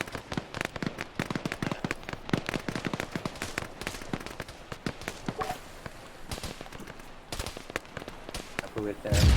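Gunfire in Arma 3 during an open-world military operation: rapid, close cracking shots in irregular bursts throughout, with occasional voices under the shooting.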